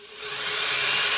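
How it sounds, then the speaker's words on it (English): A power drill fitted with a 3/16 bit bores through an amp cabinet, a steady high whine that builds in loudness over about a second, heard alone. "Means we're using a 3/16 drill bit"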